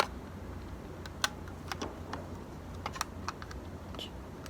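Film advance lever on a Yashica Electro 35 rangefinder camera being wound, giving a few close, crisp ratcheting clicks and ticks spread over a few seconds in an otherwise quiet room.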